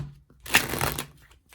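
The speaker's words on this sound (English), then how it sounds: "That was a bad shuffle." Tarot oracle cards shuffled by hand, a brief close papery riffle and crackle lasting under a second, with no talking.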